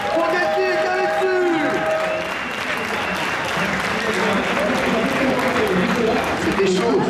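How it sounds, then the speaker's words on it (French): Audience applause and cheering fill an arena at a Super Street Fighter 4 AE team tournament final, a steady dense crowd roar with a commentator's voice talking over it throughout. "Je vous demande quand la tonnerre d'applaudissements pour Kelsey et Kavetsu."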